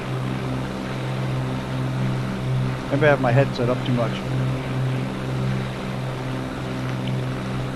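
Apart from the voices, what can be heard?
loud engine of a 414 aircraft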